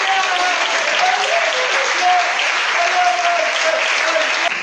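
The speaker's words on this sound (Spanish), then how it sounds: "Fuerte ese aplauso para Dios." A church congregation breaks into sustained, dense applause, a steady wash of clapping that fills the space at an even level from start to finish.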